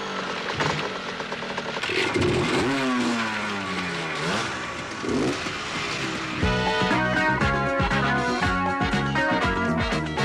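Several motocross motorcycle engines revving and whining as they pass in a cross race, pitch rising and falling, then a louder buzzing pack of bikes racing close by.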